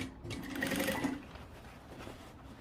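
A sewing machine runs a short burst stitching a jeans hem, with a steady motor whir for about a second before slowing to stop, leaving quiet room tone.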